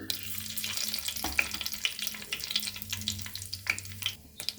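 Fenugreek and fennel seeds frying in hot oil in a clay pot, a soft, uneven crackle with small pops and stirring scrapes, fairly faint and close.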